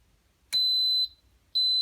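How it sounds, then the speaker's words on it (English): An Instant Pot pressure cooker beeps as it starts, two clean high electronic tones, the first about half a second long and the second beginning after a short pause, in a quiet kitchen. "It'll beep and start."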